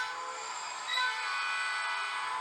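An 8110 class diesel locomotive hauls freight wagons, a steady droning rumble that holds at an even level throughout, with a faint brief tonal rise near the start and no voices.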